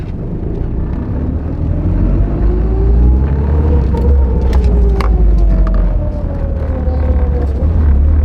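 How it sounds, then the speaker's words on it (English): A Mitsubishi Evo with a badly worn, stiff clutch is driven a short distance, its engine droning loudly and close with a rising then falling pitch and a steady low rumble, with no talking. "let me go drive it about 10 feet"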